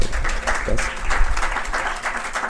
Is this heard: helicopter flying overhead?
no